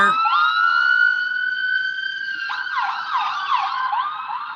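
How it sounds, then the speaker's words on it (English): An ambulance siren wails with long rising and falling tones, then switches to a faster warbling yelp, loud and fairly close. "I hear sirens"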